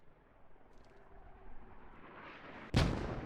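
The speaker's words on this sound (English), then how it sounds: "Mortars seem to be landing ineffectively" Mortar shells from a video game bombardment land as a single sharp, loud blast near the end, following a stretch of low rumbling battle ambience with no speech.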